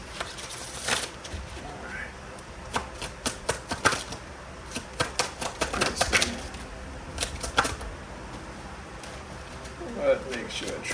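Tarot cards are shuffled by hand in a series of crisp riffling bursts and sharp slaps, irregular and close, with quieter gaps and light handling noise between them.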